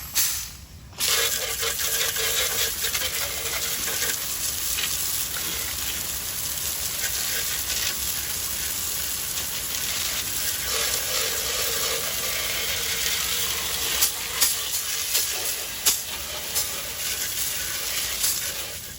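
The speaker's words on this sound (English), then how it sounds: "I'm going to use a hose and just wash it off" A garden hose sprays water steadily to wash a lawn mower deck, a loud continuous hiss with brief clatters and rattles near the end.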